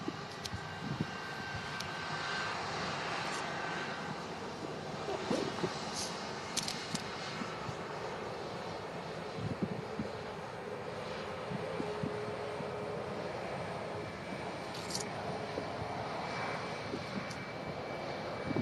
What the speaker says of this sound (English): Pretty quick taxi on the 737.